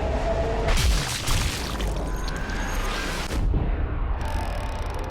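A sniper rifle shot and head impact in Sniper Elite V2 video game: a loud booming crack early on, followed by dense rumbling game noise and a softer thud later.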